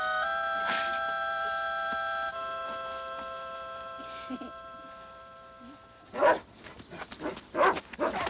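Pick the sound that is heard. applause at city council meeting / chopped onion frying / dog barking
dog barking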